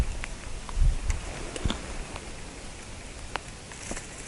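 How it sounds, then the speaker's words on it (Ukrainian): Steady rain patters all around during float fishing on the Uzh River, with scattered drops tapping nearby surfaces and a few soft thumps; no talking. "Дощик все більше і більше"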